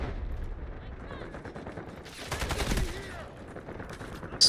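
PTR-32 assault rifle fire in the shooter game Delta Force, a short burst of loud gunshots over a low rumbling game soundscape, followed by a sharp click near the end.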